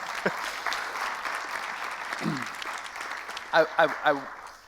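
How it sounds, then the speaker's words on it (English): An audience at a board meeting keeps up a moderate, even applause, with voices speaking over it near the end. "So if you guys don't mind giving Mary another round of applause"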